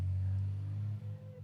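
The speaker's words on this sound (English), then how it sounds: "you can hear the loud trucks outside." Loud trucks passing outside produce a steady, low engine rumble heard from indoors, holding level before dipping briefly near the end.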